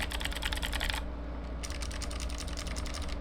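Fast typing on a Razer Huntsman Mini keyboard with clicky switches, a dense run of sharp close clacks that pauses for half a second and then resumes at the same brisk pace, no voices.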